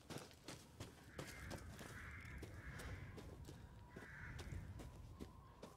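Crows caw repeatedly in a Resident Evil Village game scene, harsh calls coming in several bursts over steady ambient noise and light footsteps.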